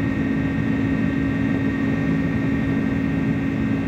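A steady, loud engine roar from an aircraft in Microsoft Flight Simulator, a DHL cargo flight from Brussels to Leeds, droning continuously without a break and with no voices over it.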